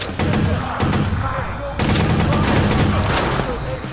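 A light machine gun in the Watch Dogs game (PS4) fires loud, rapid bursts, with a short pause before a longer sustained stream of shots close up.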